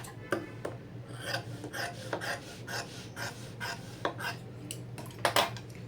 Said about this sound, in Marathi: एक इंच एवढं कट करून घेऊया आपण